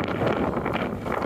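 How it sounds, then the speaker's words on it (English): Gusty wind above tree line on Saddleback mountain in Maine, a rough, buffeting rush pressing against the microphone in uneven surges, loud and close. "What do you think the gusts are?"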